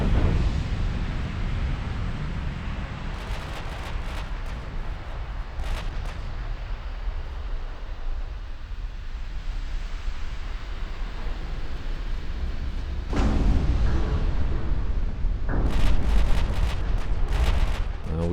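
Heavy 18-inch naval guns boom in an Ultimate Admiral Dreadnoughts battle, with several loud broadband blasts around the third to fourth seconds, again near thirteen seconds and in a dense cluster toward the end, over a constant low rumble of battle ambience.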